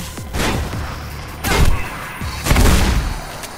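Three heavy shotgun blasts boom out in the video game Mirror's Edge, spaced about a second apart, each a loud low thump with a crackling tail over steady game ambience.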